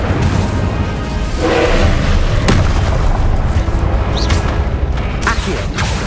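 Incendio fire spell bursting in the Hogwarts Legacy video game, a loud booming blast with crackling impacts and whooshes over a dense battle din.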